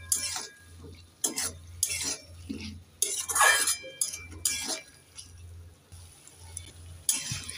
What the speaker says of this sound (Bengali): এবার নেড়ে চেড়ে মশলার সাথে আলুটাকে 2 মিনিট কষে নেব।